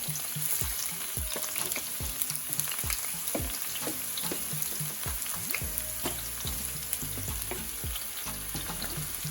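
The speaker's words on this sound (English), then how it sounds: "So we're gonna add our onions," Onions, thyme and pepper sizzle in a pot for ackee and saltfish, a continuous close crackle with scattered pops and ticks from the food and utensil, no voices.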